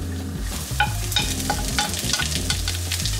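Garlic fries in a hot pan over medium-high heat, giving a loud, continuous crackling sizzle with quick stirring scrapes and a low rumble underneath; no one speaks.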